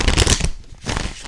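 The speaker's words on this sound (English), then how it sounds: "Very easy to shuffle." A deck of tarot cards is shuffled by hand, a loud riffling burst followed by softer papery rustles and slides, close up with no talking.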